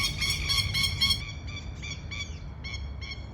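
Birds in a garden give a run of rapid, high chirping calls, fairly faint and repeated in short bursts over a low background rumble.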